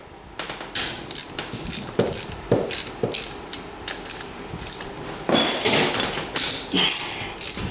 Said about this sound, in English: Bust them loose with the ratchet real quick.